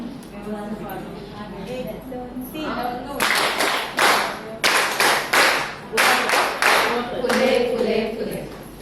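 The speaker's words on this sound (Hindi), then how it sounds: "इतने बहुत अच्छे से तालियां बजाते हैं, मुझे बहुत पसंद आती है वो तालियां।" An audience at a hospital awareness talk on cervical cancer breaks into applause, with many hands clapping in a rhythmic, fairly close run after a stretch of talking.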